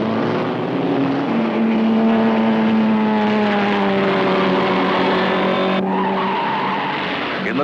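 Racing cars braking hard into turns on a film soundtrack, tires squealing in a long, loud, sustained skid that bends in pitch, with engine roar underneath, close and continuous.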